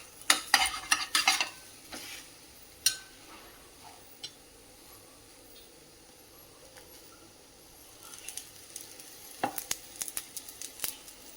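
Thin poha fries in hot oil for chivda. Crackly sizzling bursts and stirring clatter come at the start, fade to a quiet stretch, then return near the end.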